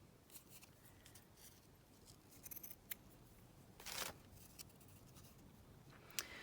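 Scissors cutting journal cover material, quiet and close, with soft snips and paper rustles scattered over several seconds and one sharper crisp cut near the end.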